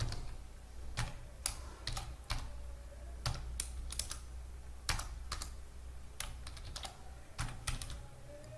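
Someone types code on a computer keyboard in quick, irregular clusters of sharp key clicks, close and fairly quiet over a low steady hum, with no talking.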